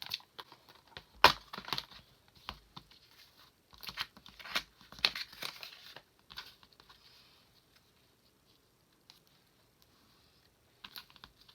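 Mushroom paper stickers are peeled off their backing sheet in bursts of crisp crinkling and tearing crackles, close and sporadic, then near silence with a faint rustle at the end.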